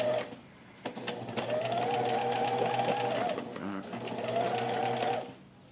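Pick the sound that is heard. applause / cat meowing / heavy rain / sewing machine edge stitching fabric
sewing machine edge stitching fabric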